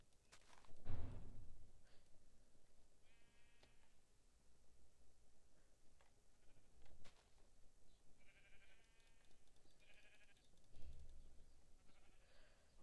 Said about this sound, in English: Hey, sheep, sheep.